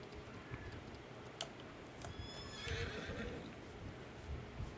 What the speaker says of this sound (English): Come here, horsey.